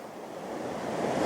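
Cold springtime stream water flowing steadily as a broad, even rush, close and fairly loud, building slightly toward the end with no voices.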